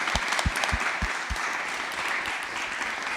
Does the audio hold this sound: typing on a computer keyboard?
no